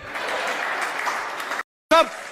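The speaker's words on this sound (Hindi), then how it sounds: "आपकी तालियां तो अब आएंगी" An audience at a Hindi comedy poetry gathering applauds with a steady wash of clapping that cuts off abruptly, followed by a short burst of speech.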